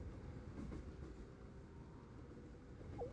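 Train riding ambience from the Blue Archive video game: a steady low rumble of a moving rail car with faint rhythmic clatter, continuous and moderately quiet, with a brief squeak near the end.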